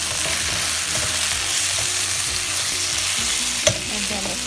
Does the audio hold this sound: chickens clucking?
no